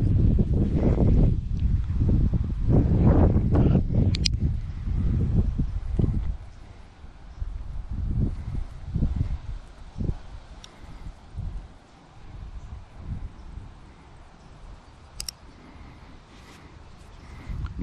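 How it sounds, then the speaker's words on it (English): Gusty wind buffets the microphone in heavy low rumbling bursts, strong at first and then easing into softer intermittent gusts. "Sure is windy today."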